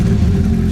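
A Dodge Viper's V10 engine rumbles loud and close through its side pipes, a steady deep lumpy low-end burble with a slight rough throb.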